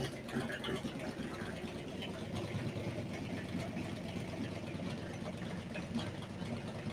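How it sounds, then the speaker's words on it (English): A 428 Cobra Jet FE V8 idles on its first start, its exhaust rattling against a nearby wall: a steady, loud, close rumble laced with rapid ticking pulses and no pauses. "it's the exhaust rattling off the wall over there"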